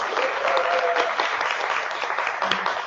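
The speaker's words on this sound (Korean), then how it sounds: "박수 한번 드려야 되죠?" Applause from a seminar audience rolls steadily through a short stretch, with a faint voice or tone briefly audible early on and the clapping continuing evenly to the end.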